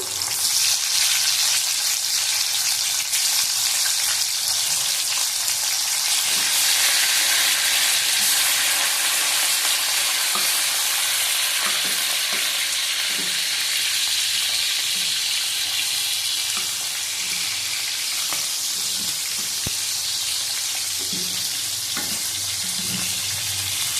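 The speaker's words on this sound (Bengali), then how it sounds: "এদিকে আমি ইলিশ মাছের মাথা ভেজে নেবো" Hilsa fish head fries in hot oil beside a pan of simmering spice paste for mutton with Malabar spinach, a steady loud sizzle running throughout with faint occasional clinks, close and without talk.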